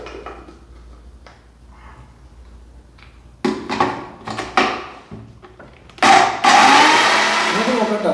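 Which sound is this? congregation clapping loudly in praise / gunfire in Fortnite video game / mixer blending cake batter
mixer blending cake batter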